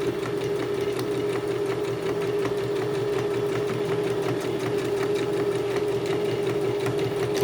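A sewing machine stitches down the last seam of a folded fabric coaster, its motor humming loud and steady throughout with a fine rapid needle tick and no pauses.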